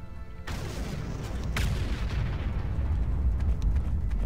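Dense, continuous rumble of explosions and sonic booms in a Garry's Mod Warhammer 40K roleplay battle, a loud, steady barrage with a sharper crack early on and no voices.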